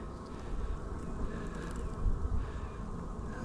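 Soft, diffuse buzzing of honey bees around an opened hive in spring, faint and continuous with light wind rumble and no talking.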